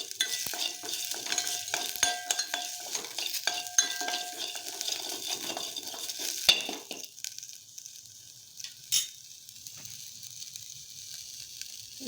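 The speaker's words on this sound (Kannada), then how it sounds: "ಸ್ವಲ್ಪ ಫ್ರೈ ಮಾಡ್ಕೊಳ್ಳೋಣ ನಾನಿಲ್ಲಿ ಹಸಿಮೆಣ್ಸಿನ್ಕಾಯಿ ಹಾಕೊತಾ ಇದ್ದೀನಿ" Green chillies fry in a hot pan with a steady sizzle and frequent stirring clinks of a utensil against the pan, loud at first and then easing into a quieter hiss.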